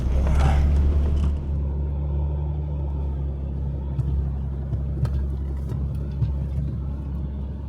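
Vehicle driving a rough, bumpy sandy beach track on Moreton Island, with a steady low rumble, creaks and scattered knocks from the suspension, continuous and close.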